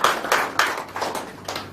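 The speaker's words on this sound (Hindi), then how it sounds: "मैं एक बार ताली आपके लिए बजाना चाहूंगा।" A few sharp hand claps ring out at an irregular pace at a business marketing meeting in Balotra, Rajasthan, close and fairly loud in a small room with no talking over them.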